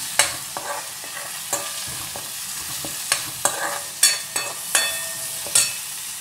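Curry leaves and onions stir-frying in a pan for spinach tomato dal, a constant crackling sizzle broken by repeated sharp scrapes and knocks of the spoon against the pan at uneven intervals, close up with no talking.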